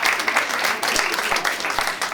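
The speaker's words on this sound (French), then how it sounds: "Applaudissez si vous êtes d'accord." A theatre audience at a comedy show applauds, a steady, fairly loud patter of many hands with a few sharper claps standing out.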